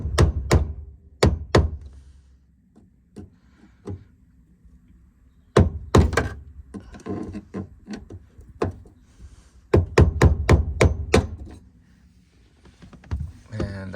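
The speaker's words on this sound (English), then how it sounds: "I ended up doing this with my flathead and hammer." Sharp metallic hammer strikes on a flathead screwdriver against a fuel pump lock ring in quick bursts of several blows, separated by quieter pauses, close and crisp.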